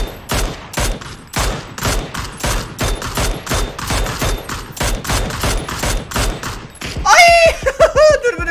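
Rapid bursts of automatic gunfire ring out in a PUBG-style battle royale game, a loud stuttering string of shots that ends in a brief bout of giggling.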